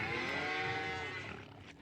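A cow in Farming Simulator 19 gives one long, drawn-out moo, close and clear, fading out after about a second and a half, with no talk over it.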